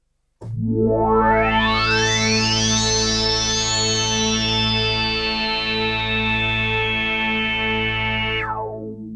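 A loud, sustained Arturia PolyBrute synthesizer chord in vintage voice mode, detuned voices drifting apart, producing swirling, sweeping pitch glides before the sound cuts off.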